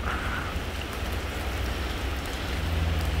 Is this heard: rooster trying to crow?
no